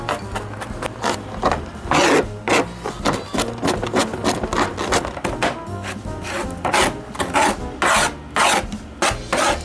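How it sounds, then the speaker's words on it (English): A knife chops garlic cloves finely on a cutting board, a fast irregular run of sharp scraping taps and rasping strokes, close and busy, with brief pauses between bursts. "I'm going to try to chop it as finely as I can."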